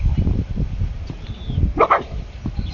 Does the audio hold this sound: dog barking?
yes